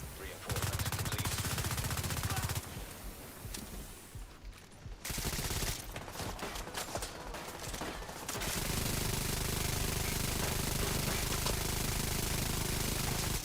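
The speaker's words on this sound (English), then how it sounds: "Like the turrets are fighting each other." Automated turrets in The Division 2 trade fire in loud, continuous rapid bursts. The firing drops briefly in the middle, then resumes as a dense, unbroken barrage.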